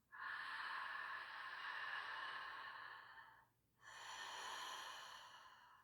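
Two long, deep breaths during a breathwork exercise, each a full, airy inhale or exhale lasting about three seconds, close and soft, separated by a brief pause.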